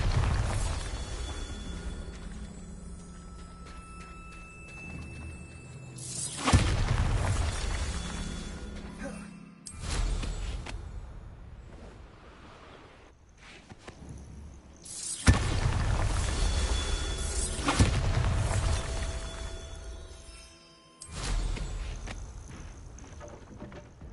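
Bombarda spell explosions go off in Hogwarts Legacy, several loud booms with crashing, shattering debris spaced through a stretch of game ambience and music, with a voice speaking at times.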